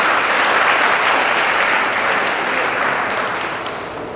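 Audience applause at a cyber security awareness workshop for students, a dense, loud wash of clapping that holds steady and then slowly tapers near the end, with no talk over it.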